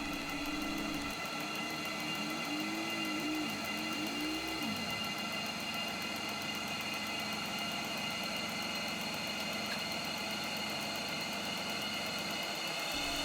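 The fan of a Vevor diesel heater runs as a steady, droning hum whose pitch climbs in the first few seconds, then holds a constant whirr with a faint mechanical buzz, heard up close with no talking.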